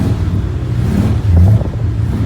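A 1969 Corvette engine revs close and loud, a deep rumbling throttle blip that swells and rises briefly before settling back to a heavy idle.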